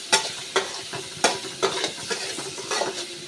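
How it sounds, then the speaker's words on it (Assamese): Peas and potatoes frying in oil with turmeric, a soft sizzle broken by repeated sharp scraping strokes of a spoon stirring in the pan, close up and with no voices. "বেছি ভাজিব নালাগে এনে তেলত অলপমান খৰখৰাই দিব লাগে"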